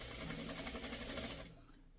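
Quilt pieces from a pre-cut kit are fed through a sewing machine, a fast steady stitching whir close by that stops abruptly near the end.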